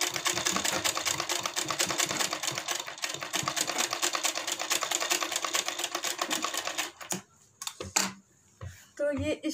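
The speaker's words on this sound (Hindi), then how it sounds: "इसी तरीके से हम इस पे दो दो सिलाई लगा रहे हैं।" A sewing machine stitches a decorative back-neck design on a blouse, whirring in a fast, steady run of close stitches for about seven seconds before stopping. Someone talks between the stitching bursts.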